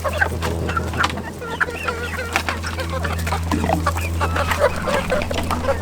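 Chickens and roosters cluck and chatter continuously at close range over a steady low mechanical hum, with a bit of faint talking.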